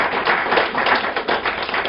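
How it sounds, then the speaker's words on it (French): An audience at an award ceremony applauds, a dense, continuous clatter of many hands clapping close and loud throughout, with no talk. "Je voulais qu'on applaudisse"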